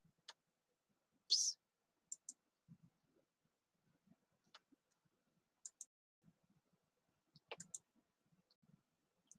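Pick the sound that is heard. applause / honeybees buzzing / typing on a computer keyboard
typing on a computer keyboard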